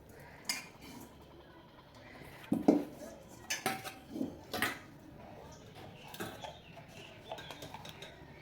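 A metal spoon scrapes and clinks against a pot as fried onions are stirred into egg biryani rice, with sharp intermittent knocks between quieter stretches. No speech.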